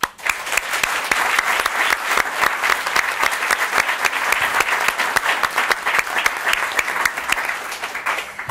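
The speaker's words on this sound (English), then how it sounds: "Ladies and gentlemen, a warm round of applause for our platform party and for the simulated wall and" An audience at a wall breaking groundbreaking ceremony applauds steadily, with many crisp individual claps standing out from a continuous, fairly close round of clapping.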